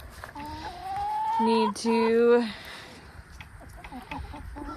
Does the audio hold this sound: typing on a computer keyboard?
no